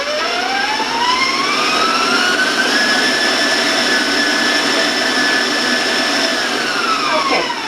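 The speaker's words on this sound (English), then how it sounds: "I probably should have warned you about the sound of the mixer because it can come off pretty loud" Electric stand mixer whirs loudly and steadily while creaming chocolate buttercream frosting, a sustained close motor whine with a slight rising pitch, no talk.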